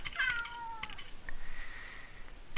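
Dusty, a pet cat, gives one clear, close meow near the start, followed by a fainter drawn-out mew, indoors at a home gaming setup with no one talking.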